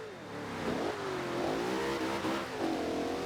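A Lamborghini Miura engine in Forza Horizon 2 revs up and down repeatedly, its pitch rising and falling through gear changes over a steady mechanical drone.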